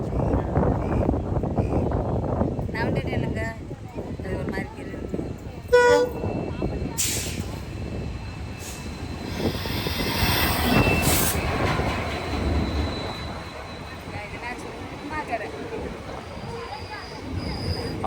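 A passenger train runs across the Pamban Bridge near Rameswaram, a loud, continuous rumble and clatter of wheels with squealing and short horn-like toots, while people talk over it.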